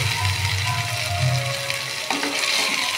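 Lightly boiled potatoes frying in spice masala for a Bengali egg potato curry, a loud continuous sizzle with stirring scrapes in the pan, close by and without talk.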